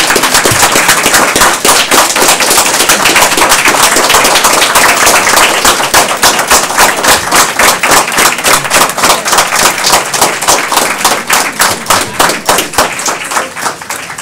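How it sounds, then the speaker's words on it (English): Dense, loud audience applause at a public meeting honoring school staff, a steady roar of many hands that thins toward the end into more distinct, separate claps. "So for that, we applaud you."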